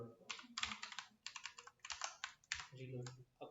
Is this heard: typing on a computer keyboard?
yes